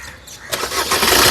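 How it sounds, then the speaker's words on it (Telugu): Maruti Suzuki Ignis Delta AMT 2018 car engine cranking and catching on a single starter turn, a sudden loud start rising into a steady running engine after a quieter lead-in. "ఆరు ఎక్ బార్ గాడీ స్టార్ట్ కరో"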